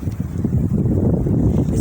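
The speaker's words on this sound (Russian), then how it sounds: "но очень-очень сильный ветер." Very strong, storm-force wind blows through a birch forest on a sunny spring day, a loud, continuous low roar buffeting the microphone with no voices.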